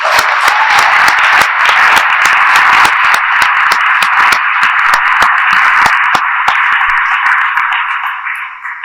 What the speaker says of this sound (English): a final round of applause for us